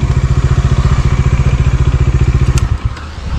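A Bajaj Dominar 400 motorcycle's 400 cc engine thumps in a steady, rapid low pulse close by, loud and rhythmic, easing off slightly near the end.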